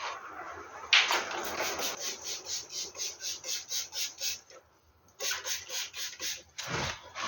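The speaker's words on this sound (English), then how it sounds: "sand it so it's just lightly and just till it's smooth" Hand sanding of a Hillman Super Minx front guard's paint with fine grit sandpaper, giving a close, steady rasping rub in regular back-and-forth strokes, with a short pause partway through before the strokes resume.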